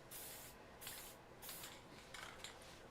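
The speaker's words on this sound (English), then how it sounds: "I'm going to shoot this with 1 quick coat of this matte spray." A can of matte spray coat hisses out in four short bursts with brief gaps between them, close and steady, with no talking.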